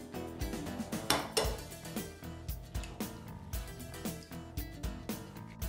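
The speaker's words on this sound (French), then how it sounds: "nous allons séparer les blancs des œufs" Eggs being separated into kitchen bowls for a light tiramisu, with a steady series of sharp clinks and taps of shell and utensil against dishes, close and fairly quiet, with no talking.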